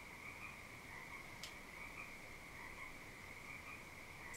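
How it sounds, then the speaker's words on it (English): Frogs croak in a continuous, dense chorus of faint, steady trilling from a marsh, heard at a distance, with a couple of brief clicks and no speech. "No, it's real frogs."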